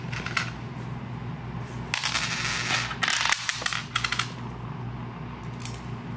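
Brand-new metal washers rattle and clink inside their packaging, a run of small metallic jingles and crinkles that peaks in a few brief bursts, close up over a steady low hum with no talking.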